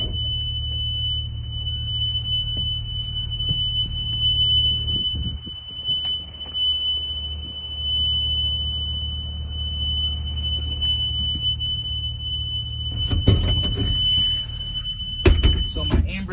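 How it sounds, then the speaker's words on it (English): Emergency exit alarm on a school bus during a Connecticut pre-trip inspection, a continuous high-pitched electronic tone sounding steadily over an idling engine rumble, with clunks and rattles from the rear door near the end. "I'm gonna open my emergency exit and I'm gonna look for my ambers and my hazards to make sure they're properly working and I can hear my alarm."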